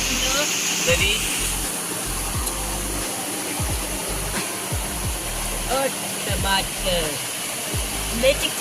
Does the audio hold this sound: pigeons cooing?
no